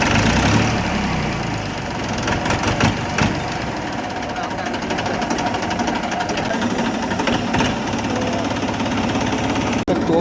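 A farm tractor engine, just started after a hard-starting fault, runs with a dense rattling diesel chug, close and steady, while someone talks nearby.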